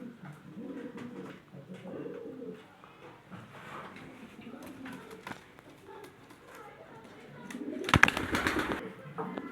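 Pigeons coo softly near a person who talks throughout, followed by a brief loud flurry of wing flapping or rustling close by toward the end.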